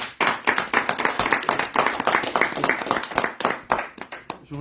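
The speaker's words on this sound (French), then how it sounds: "Et on applaudit très fort pour notre candidat" Audience at a diaspora presidential campaign political gathering applauds a candidate with rhythmic, fairly unified clapping, a quick steady beat of hands that swells and dips, close and loud.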